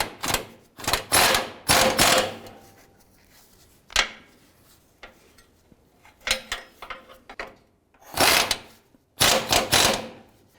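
Ratcheting on a 2004-2009 Dodge Durango's crossmember bolts gives several close, loud bursts of rapid clicking, separated by pauses and short single clicks, with no talk.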